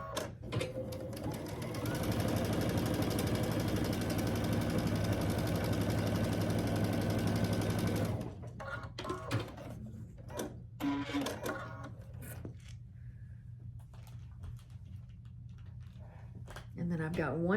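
Sewing machine stitching a 1/4 inch seam joining quilt block pieces, a loud continuous motor whir running steadily for about eight seconds, then stopping and giving way to softer handling sounds and a voice talking.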